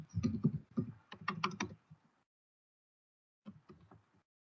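Someone types on a computer keyboard in two short, faint clusters of quick taps separated by a pause of near silence.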